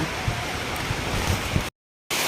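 Rushing water from a river overflowing its banks and flooding during a typhoon, near a hut by rice fields; a dense, loud, steady roar with wind buffeting, cut off briefly near the end.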